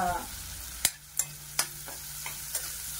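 Onions frying in a pan for cashew butter masala curry, a low steady sizzle broken by five or six sharp scrapes and clinks of the stirring spoon against the pan, with no talking.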